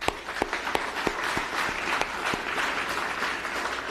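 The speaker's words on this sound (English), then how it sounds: "Please join me in giving him a round of applause." Audience applause at an Orange County Fire Rescue swearing-in ceremony, honoring Chaplain Brandon: steady, dense clapping from a crowd sustained evenly through the whole stretch, with a few sharper individual claps standing out near the start.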